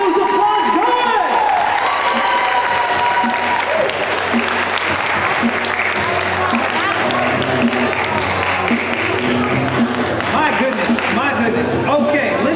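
Enthusiastic crowd at a high school ninth-grade poetry slam keeps up loud, continuous applause with cheers and shouted voices for a poet, dense and unbroken throughout.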